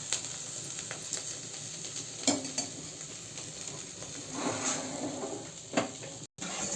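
Bitter gourd curry frying in a pan makes a steady, moderate sizzle with occasional stirring scrapes, heard alone without any talking.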